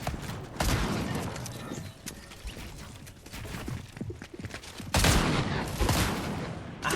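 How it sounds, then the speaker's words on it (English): Gunshots in Fortnite, heard as scattered bursts and rapid volleys of shots, some near and loud, others lighter, with a heavy close barrage near the end amid general game noise. "Stop shooting me with bullets"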